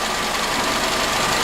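A Vauxhall Corsa engine runs steadily, a continuous close mechanical drone held around 2000 RPM during an oxygen sensor test on a car showing P0130 and P0135 fault codes, with no talking.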